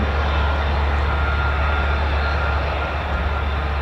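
An F-15 fighter jet at the 48th Fighter Wing base, RAF Lakenheath, gives off a steady, loud engine roar that holds at an even level throughout with no pauses.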